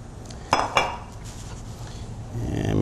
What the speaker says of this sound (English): And mix up our cornstarch.